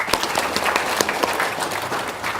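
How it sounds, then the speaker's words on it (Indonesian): An audience at a talk or gathering claps together in a dense, steady round of applause, moderately close, with a few sharp individual claps standing out. "Tepuk tangan dong."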